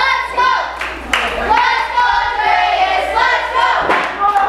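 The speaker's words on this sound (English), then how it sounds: "Fans trying to cheer, ladies and gentlemen," Wrestling fans at a live show cheer and shout in a loud, continuous crowd roar, broken by scattered claps and sharp thuds.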